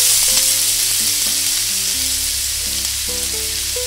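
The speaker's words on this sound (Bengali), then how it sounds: "এই আদা আর রসুন কুচিটা কিছুক্ষণ ফ্রাই করে নিয়ে" Chopped garlic and ginger fry in hot oil in a kadai for desi-style chilli chicken, giving a loud, steady, close sizzle that runs the whole time beneath a soft stepping melody, with no voices.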